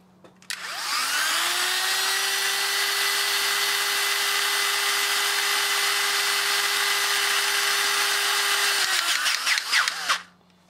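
A Robo Crimp powered crimping tool runs as it closes, a loud, steady motor whine holding level for about eight seconds with a rising pitch at the start, then cutting off with a brief rattle at the end.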